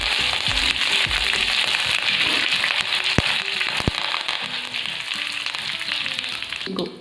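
Curry leaves and dried red chillies crackle and sizzle steadily in hot oil, a loud continuous frying hiss with a few sharp pops, ending abruptly.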